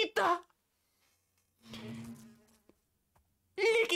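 A bee buzzes in Minecraft as a steady, droning hum of about a second, set between short bursts of a voice speaking loudly at the start and end.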